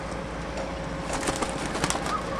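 Soft pigeon cooing repeats a few times over steady background hiss, with faint flutters between calls.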